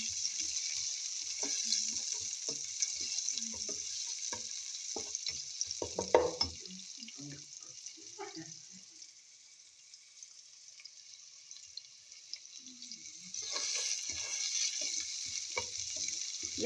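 Chopped onion fries in hot oil for pinakbet, a steady close sizzle broken by scattered clinks and scrapes of stirring, quieting midway before the hiss swells again, with no talking.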